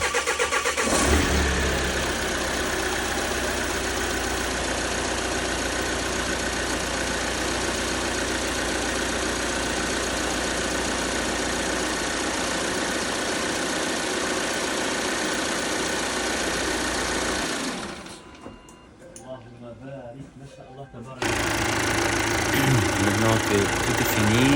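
A Volvo XC90 engine cranks and fires on its first start after an oil-consumption repair, then settles into a steady, loud idle close by, briefly dropping away before resuming.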